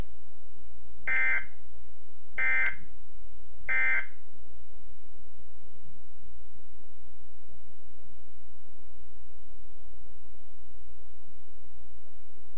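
Three short, loud electronic alert tone bursts spaced about a second apart, the Weather Radio Canada weekly test signal, followed by a long stretch of near silence with faint low hum.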